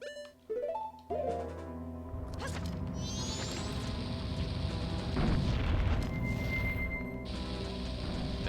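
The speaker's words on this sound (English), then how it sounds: "I'll just drop a bomb right on him" A bomb explodes with a deep boom in the video game Majora's Mask, followed by a sustained rumbling roar and mechanical game sounds.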